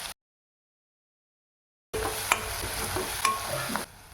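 Onion, ginger and garlic frying in oil in a kadai, a close hiss and sizzle with a couple of sharp utensil taps. It starts abruptly after a stretch of near silence, with no speech.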